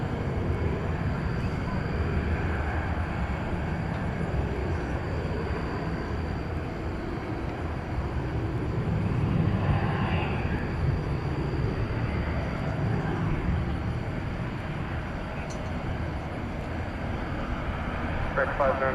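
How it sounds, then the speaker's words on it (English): An American Airlines Airbus A321 bound for Sacramento rolls at night on runway 18 right at DFW Airport, a broad steady engine roar close by that swells around the middle and holds throughout. "American 509 to Sacramento and Airbus A321."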